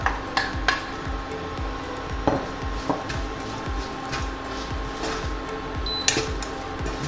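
Onions, ginger and garlic hit hot oil over low heat, giving a soft sizzle broken by repeated knocks and scrapes of a utensil against the pan, close by and steady.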